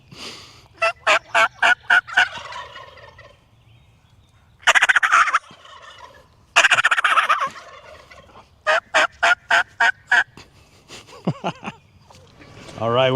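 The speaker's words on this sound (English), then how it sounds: "They got a group of turkeys here, and of course I'm a hunter, so I've got a diaphragm call here." Rapid-fire yelps from a turkey diaphragm call alternate with loud, rattling gobbles from a group of wild turkeys near a garden, bursts of calling and gobbling trading back and forth outdoors with pauses between.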